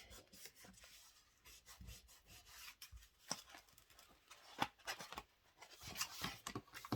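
Glued paper in an autumn-themed scrapbook album being pressed and rubbed down by hand, heard as close, soft, irregular scraping and rubbing strokes with faint taps, no voices.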